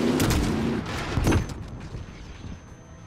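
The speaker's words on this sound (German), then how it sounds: "das war eine ganz schöne Explosion" A large explosion in Modern Warfare 2019 on a highway, a loud burst of gunfire and booming blasts that peaks with a heavy detonation, then trails off into a rumbling, crackling decay.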